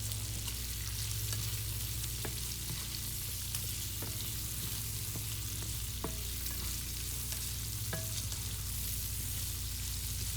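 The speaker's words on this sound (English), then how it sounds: "you want the onions to cook up in this bacon fat" Diced onions saute in rendered bacon fat for shrimp and grits, giving a steady, close sizzle and crackle that runs throughout with a few faint clicks of a utensil and no talking.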